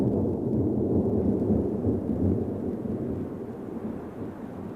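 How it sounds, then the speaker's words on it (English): Low, rolling thunder from a tropical thunderstorm rumbles continuously with a heavy wash of rain, deep and dense, fading slightly toward the end. "A tropical thunderstorm in the catchment area pours millions of litres of water into the river."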